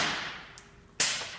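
An airsoft gun fed from an Amoeba midcap magazine, a Sugar Weasel, fires one sharp semi-auto shot, loud and close, with a fainter snap just before it.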